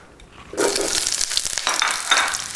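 Red peppers hit a hot pan and sear with a loud burst of sizzling, stirred and tossed so the crackle surges and ebbs in close, busy waves.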